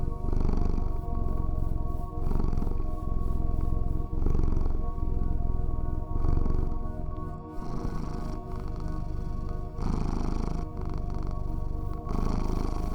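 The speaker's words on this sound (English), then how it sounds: "The purring is like a liquid sound vibration communicating through this web of light and energy" A cat purrs loudly and close up, a low rhythmic rumble pulsing with each breath in and out, repeating steadily over several seconds.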